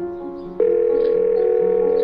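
Telephone ringback tone heard while calling someone's phone: a quiet start, then a steady loud continuous tone that holds without a break.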